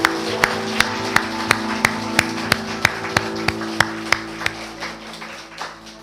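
A church congregation at a first-anniversary thanksgiving service claps in unison, loud, evenly spaced beats about every third of a second over a steady hum, gradually loosening and fading toward the end.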